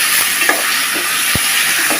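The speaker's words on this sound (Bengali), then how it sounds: "2 থেকে 3 মিনিট ভেজে নিতে হবে।" Tomatoes and ginger paste fry in a hot pan, giving a constant loud sizzle with a few faint stirring scrapes and knocks, no voices.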